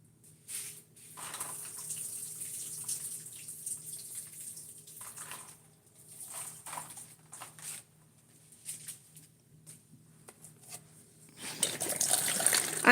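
Water poured onto potted sugar snap pea plants indoors, a soft trickling and splashing that comes in uneven bursts, quiet at first and swelling louder near the end.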